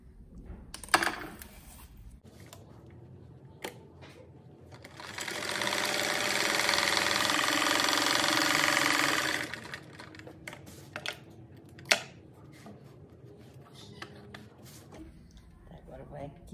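A sewing machine stitching fabric strips for a patchwork rag rug, one steady whirring run of a few seconds, near and moderately loud, framed by clicks and handling noises and quiet stretches before and after.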